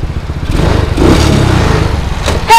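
A quad ATV engine revs up loudly nearby, holding a rough, throaty roar for a couple of seconds before easing off, then catching a sharp final blip.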